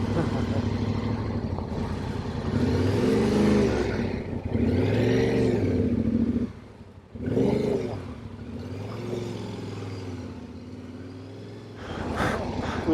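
A motorcycle engine rumbles and rises in pitch as it rides along streets in Aix-en-Provence, with repeated throttle surges close by, a brief drop and then steady running, while people talk over it.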